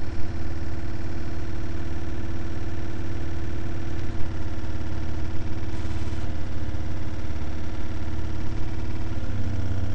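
A small motor hooked to a Bedini circuit runs with a steady, close, low electrical hum and a faint buzzing drone, unbroken for the full length with no talking.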